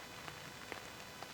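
Rain falls steadily on a tarp shelter at a solo camp, a dense even patter with occasional heavier drops tapping close overhead.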